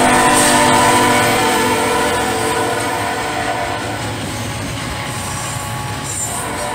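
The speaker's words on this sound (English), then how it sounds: "This isn't your typical intermodal train." An intermodal freight train rumbles past with steady clattering wheels and some squeal, loud and close, while its horn sounds near the start and again faintly toward the end.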